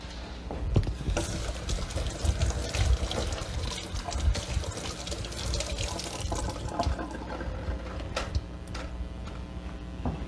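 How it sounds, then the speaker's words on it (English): Hands washed under a steadily running kitchen tap, water splashing and pattering into a sink close by, with some rubbing and handling noises and no speech. "I wash my hand."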